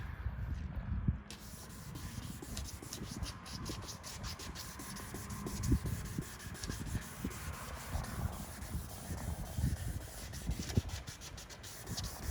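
Sandpaper rubs back and forth over a car headlight lens in rhythmic, close scrubbing strokes, a steady gritty hiss with no talk.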